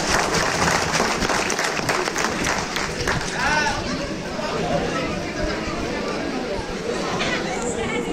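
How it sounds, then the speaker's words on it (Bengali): Students at a Teachers' Day celebration applaud loudly and steadily for a teacher, many hands clapping at once amid crowd chatter and raised voices. "সঞ্চিতা ম্যাডামের জন্য একটু হাততালি"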